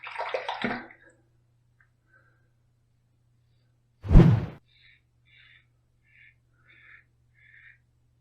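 Hot tap water for shaving runs in a single short, loud gush of about half a second near a sink, surrounded by near silence with a few faint high squeaks.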